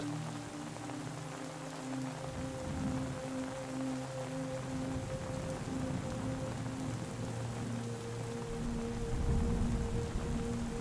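Rain taps steadily on tent fabric in a soft, even patter, joined by a faint low tonal hum, with no voices present.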